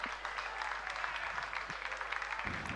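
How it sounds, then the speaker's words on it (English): Steady applause from spectators at a rowing regatta greets a school crew crossing the finish line, a quiet, continuous patter of clapping heard from a distance with a low background hum. "a round of applause, ladies and gentlemen, for the Sydney Boys High School crew just coming across the line"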